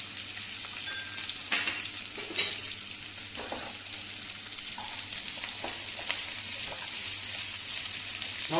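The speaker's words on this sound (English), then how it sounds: "along with onion, I'm going to brown the cashew nut as well" Cashew nuts and onion fry in a pan with a steady, dense sizzle, dotted with occasional scraping clicks as they are stirred, close and continuous throughout.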